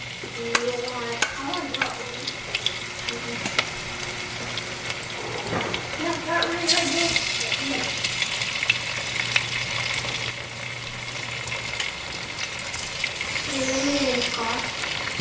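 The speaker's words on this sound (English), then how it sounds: "I got some vegetable cooker oil already hot in my skillet, so we'll go ahead and brown them up" Oxtails browning in hot vegetable oil in a skillet give a steady, soft sizzle and frying crackle, with occasional clinks and stirring, while people talk intermittently over it.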